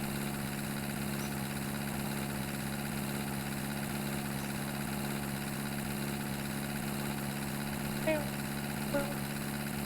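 A car engine in The Long Drive holds a steady, droning hum with a slight vibrating texture, while voices chat over it.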